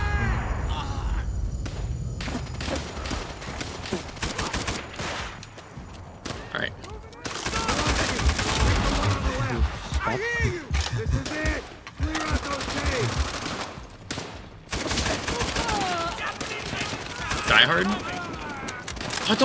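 Bursts of rifle and machine-gun fire crackle through a co-op match of Call of Duty World at War, loud close shots and scattered distant ones mixed with footsteps and thuds, while players talk over the action throughout.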